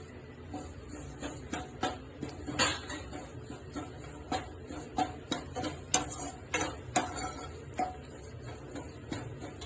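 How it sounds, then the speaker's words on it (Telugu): A cup of curry leaves dry-fries in a pan for homemade sambar powder, with rapid, repeated crisp clicks and scrapes from a stirring utensil tapping the pan, fairly close. "కరివేపాకు కూడా మంచిగా పొడి పొడి అయ్యేటట్టుగా ఫ్రై చేసుకోవాలి"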